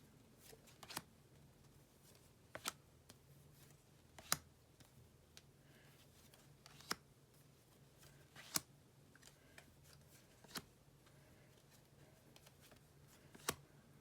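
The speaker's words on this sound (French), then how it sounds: "Alors, je vais positionner d'autres cartes." Tarot cards being placed one by one on a table, producing soft, crisp slaps and snaps at irregular intervals over a quiet background.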